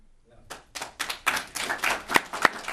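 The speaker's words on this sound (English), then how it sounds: "I'd ask everyone to hold their applause" Scattered hand claps from an audience at a city council special meeting, starting thin and building into a short burst of uneven applause with a few sharp, close claps standing out.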